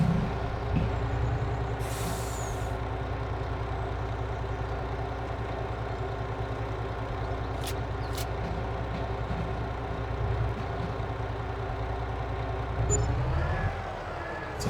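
A truck driving in the video game Farming Simulator 22: a steady, droning engine hum with a short burst of air-brake hiss early on and a few faint clicks, then the revs climb near the end.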